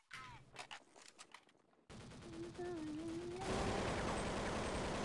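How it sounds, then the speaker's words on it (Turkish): Sustained automatic gunfire sprays through a wall in the video game Counter-Strike 1.6, loud and continuous in the second half, with earlier scattered shots and brief talk. "Duvar taranıyor."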